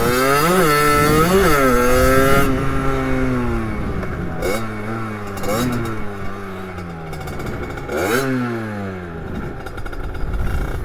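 A 50cc moped engine revs repeatedly while accelerating, rising and falling in several sharp bursts with clattering idle between them, close and loud, with no talking over it.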